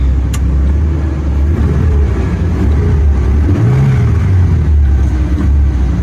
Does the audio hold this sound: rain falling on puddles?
no